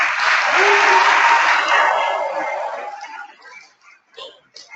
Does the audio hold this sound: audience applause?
yes